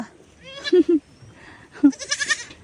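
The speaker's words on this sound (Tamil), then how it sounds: "எப்பயுமே சாயந்தரமும் காலையிலையும் ஆட்டுக்குட்டிங்க விளையாடுங்க" Young goats playing on a goat farm in the evening, giving a few short, close bleats and a longer wavering bleat, with quiet gaps and faint background sounds between calls.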